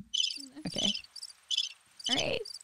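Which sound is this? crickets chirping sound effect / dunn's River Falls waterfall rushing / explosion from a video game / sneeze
crickets chirping sound effect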